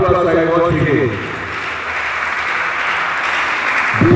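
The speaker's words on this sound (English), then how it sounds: "A round of applause for him once again" Applause for a chemical and petroleum engineering professor after a long lecture at a university department's anniversary event, a steady wash of clapping that runs the full length with a voice briefly at the start.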